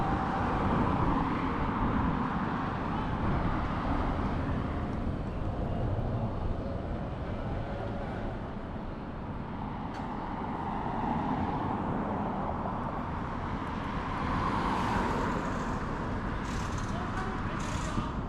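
Cars and other street traffic rumble steadily past in a small Chinese city, a continuous roadway drone with a person talking over it.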